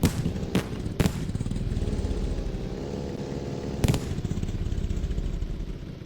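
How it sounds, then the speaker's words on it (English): A motorcycle in the survival game Night of the Dead rumbles with a steady low engine drone, punctuated by a few sharp, loud bangs near the start and middle. "Go ahead and move our bike out of the way."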